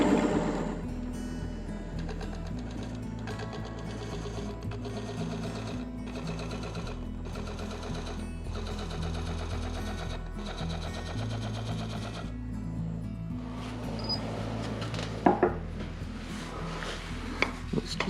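Skew chisel cutting wood on a lathe, a rapid rattling chatter in repeated bursts over the steady hum of the spinning machine, with a couple of sharper knocks near the end.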